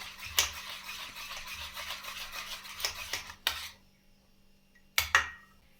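Dhokla batter being stirred and mixed in a bowl, a close, continuous scraping and swishing with a few sharper knocks of the spoon against the bowl before it stops near the end.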